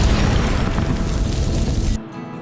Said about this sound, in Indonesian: kue ulang tahun yang di depan si Dong meledak